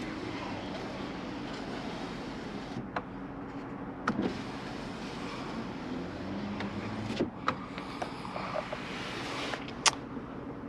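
Power rear window motor of a 2021 RAM 2500 Power Wagon Crew Cab operating inside the cab, a steady low hum running throughout with a few faint clicks and thumps.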